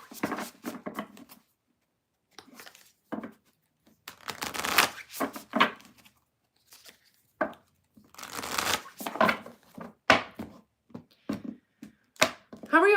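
Tarot cards being shuffled by hand, heard as irregular bursts of crisp riffling and soft slapping separated by short quiet pauses, close and moderately quiet.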